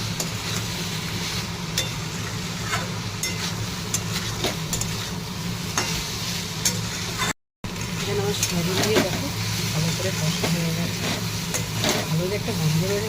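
Spice paste frying in oil in a home kitchen as soybean chunks are added and stirred, a steady sizzle under occasional spoon scrapes and clinks against the pan.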